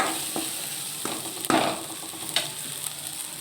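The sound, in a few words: sautéing ingredients for banana flower lentil dal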